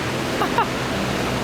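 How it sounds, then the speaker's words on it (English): A raging river flows beside a forest campsite in the rain in the Pacific Northwest, giving a steady, close, full rushing roar across the whole short moment. "We are right alongside this raging river, and it's raining out."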